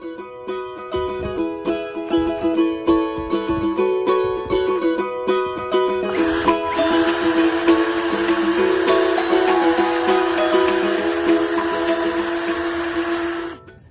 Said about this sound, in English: drill all the rivets out